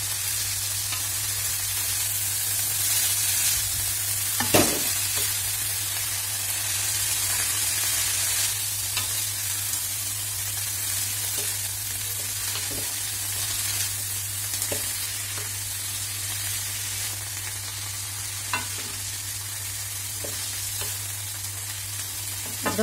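Chopped amaranth leaves fry in a pan while being stirred, producing a steady, close sizzle throughout with occasional sharp clicks and scrapes from the stirring utensil.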